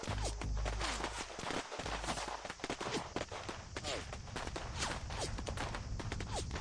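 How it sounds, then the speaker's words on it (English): In the video game Reverse: 1999, rapid gunfire crackles continuously in a holding cell, a dense barrage of sharp shots echoing together with heavy low rumbles underneath. "The sound of gunshots echoes through the holding cell."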